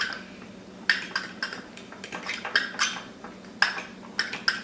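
Thick shaving foam being mixed into slime in a bowl, a run of irregular scraping clinks and taps of a utensil against the bowl, close and fairly quiet.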